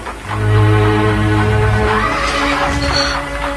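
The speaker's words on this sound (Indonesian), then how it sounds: "Aku melihat sebuah kereta kuda mendekat kemari." A horse whinnies loudly and close, a long shaky neigh, over rumbling hoofbeats and the clatter of an approaching carriage.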